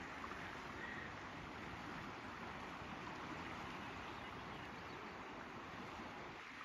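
A river flowing beside a campsite at Cook Creek, a steady, even rushing wash of water with no break, fairly faint and unaccompanied by voices.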